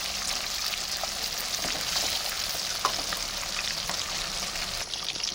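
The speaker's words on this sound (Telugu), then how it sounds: "ఇలా ముక్కలు వేసుకొని వెంటనే తిప్పకూడదు, మనం కొంచెం ఫ్రై అవ్వాలన్నమాట." Pieces of fish deep frying in hot oil, a steady, dense crackling sizzle with scattered pops, close and unbroken, without speech.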